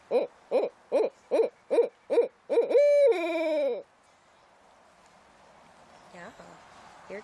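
A captive rescued owl named Gazer gives a run of about seven evenly spaced hoots, then a longer drawn-out call. Quiet background noise follows, with a faint short sound near the end.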